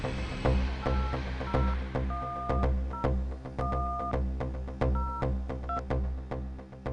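Telephone keypad dialing tones during a phone call: a rapid series of short dual-tone beeps, about a dozen presses in irregular rhythm, loud and close over a steady low hum, with no talking.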